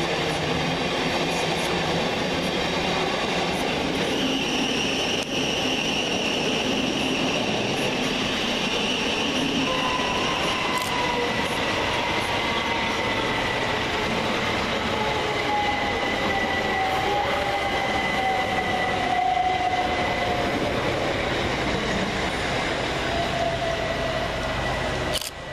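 A Southern Railway class 377 and a Thameslink class 700 electric train run through Burgess Hill station, a loud continuous rumble of wheels on rails with rising and falling whine and faint squeals, close by.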